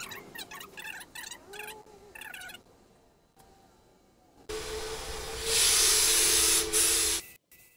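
Epoxy primer sprayed onto bare metal, a loud close hiss in two bursts of about a second each with a brief gap, preceded by quieter mechanical hissing and clicking.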